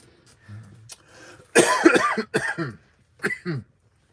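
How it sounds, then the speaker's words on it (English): Several harsh coughs burst out close by, a few quick hacking fits separated by short pauses, with a faint breathy sound at the start. "Bad cough."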